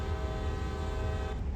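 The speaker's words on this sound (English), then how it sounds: "Horn twice." A train horn in the Train Sim World Northeast Corridor New York route sounds as one steady, loud, sustained blast over low rumbling engine noise, cutting off near the end.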